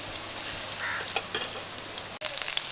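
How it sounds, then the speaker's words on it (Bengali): Stuffed spiny gourd (kakrol) fries in a pan with a close, crackling sizzle and scattered pops, broken by a brief clatter near the end. "অন্য দিকটাও ভেজে নেব।"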